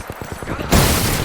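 Gunfire in a battle royale video game: a rapid burst of shots ends in a loud, dense barrage of fire close by, with no voices over it.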